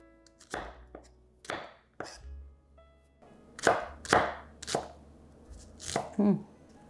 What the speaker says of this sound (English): Okay, nearly finished chopping.